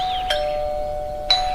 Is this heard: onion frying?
no